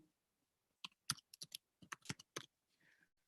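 Keys clatter on a computer keyboard as answers are typed into an interactive worksheet, a quiet run of separate clicks and short bursts with brief pauses between, heard alone without talk.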